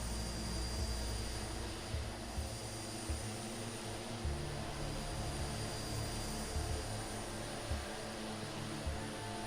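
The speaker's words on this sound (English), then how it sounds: "There's Stu in the Twin Otter" DHC-6 Twin Otter floatplane in a flight simulator game over southern Victoria, Australia: a steady, loud engine drone holds throughout, with a continuous low rumble and a faint high whine, and no talk.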